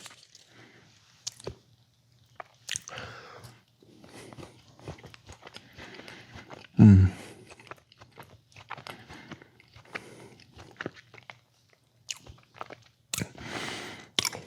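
Close, wet chewing and crunching of Oreo peanut butter cup candy, irregular bites and squishy mouth sounds with pauses between, one sharper crunch midway, no speech.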